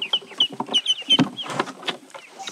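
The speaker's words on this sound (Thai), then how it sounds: "เอาเป็ดไปวางไว้นู่นไห" A duck calls nearby in a short series of quacking, clucking bursts, with several brief squeaky high notes mixed in, fairly loud and with no talk over it.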